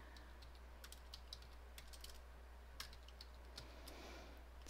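Typing on a computer keyboard while entering text in InDesign, a quiet run of light, irregular key clicks over a low steady hum, alone without talk.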